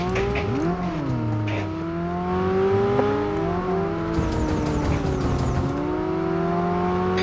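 Car engine in PUBG Mobile revving and shifting pitch as it drives, loud and steady across the whole stretch, with faint game sounds above it.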